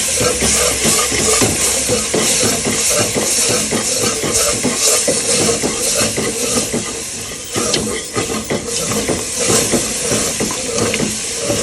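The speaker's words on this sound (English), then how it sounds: "I'm gradually gonna add some milk. This is where you need your whisk." A whisk stirring milk into a pan of bechamel white sauce, a steady busy hiss and scraping churn with faint sizzling, continuous and close throughout.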